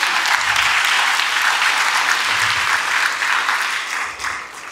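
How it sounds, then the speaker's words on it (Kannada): An audience at a student event bursts into loud, sustained clapping for a team, a dense wash of hands close by that tapers slightly near the end. "ಸಕ್ಷಮ ಟೀಮಿಗೆ ನಿಮ್ಮ ಕಡೆಯಿಂದ ಒಂದು ಜೋರಾದ ಚಪ್ಪಾಳೆ ಸಿಗಲಿ"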